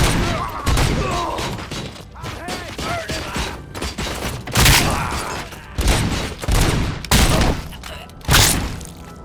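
Gunfire in the Robocop: Rogue City game, a chaotic mix of shots, thuds and shattering impacts in irregular bursts, with voices shouting intermittently.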